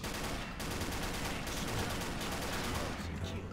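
Kabun MK18 Mod gun in the shooter game Combat Arms Reloaded fires in a loud, unbroken automatic burst. Rapid shots blur into a dense rattle that lasts the whole stretch, with no pauses.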